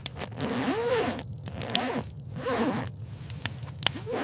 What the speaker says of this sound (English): Ethan, zip up your jacket.